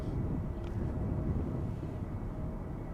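Airliner departing Schiphol for London Heathrow, a steady low rumble of jet engine noise at a distance with constant broadband roar and no other sounds over it.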